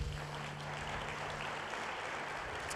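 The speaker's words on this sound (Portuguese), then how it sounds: "Podemos aplaudir a Deus." Steady applause from a church congregation, a dense continuous patter of clapping that holds for the whole stretch with a low hum underneath.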